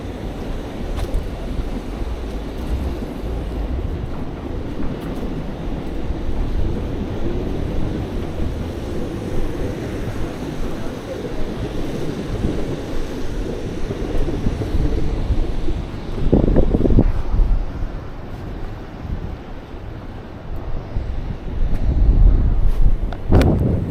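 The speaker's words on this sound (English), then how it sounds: "Stupid wind." Wind buffets an outdoor microphone on a rainy day in Tokyo, a constant low rumbling roar with stronger gusts swelling near the end.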